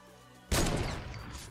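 A single sharp gunshot bursts out in a shooter video game after a quiet moment, loud and close, then decays into a short rumbling tail.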